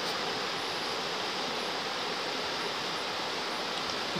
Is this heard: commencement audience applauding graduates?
no